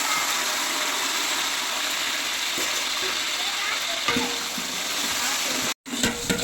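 Onions, green chilies and tomatoes fry in a large pot for a biryani made with three kilos of meat and three of rice. The sizzle is continuous and close, with occasional scraping stirs and a brief dropout near the end.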